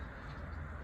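Birds call faintly outdoors in a snowy winter setting, the calls barely rising above a steady, dense wash of wind-like background noise.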